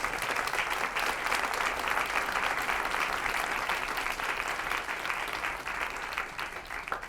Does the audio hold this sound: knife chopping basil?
no